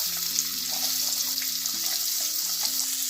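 Onion frying in hot oil in a pan for a prawn dish: a steady bright sizzling hiss throughout, close and even, beneath soft background music.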